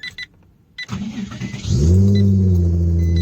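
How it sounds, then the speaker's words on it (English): A Nissan 350Z engine cranks briefly after a few clicks, then catches and settles into a steady, loud idle hum, close by. "now you have to turn off the car, and then turn it back on"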